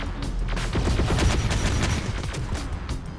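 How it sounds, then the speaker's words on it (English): Infantry in the Terminator Dark Fate: Defiance strategy game fire grenades amid a dense, continuous barrage of rapid gunfire and dull explosive thumps, loud and unbroken throughout. "Our shock infantry are launching their grenades at them."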